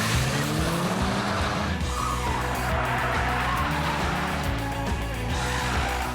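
A race car runs an autocross course, with a steady, loud engine roar and screeching tires that carry on throughout, close to the listener and with no one talking.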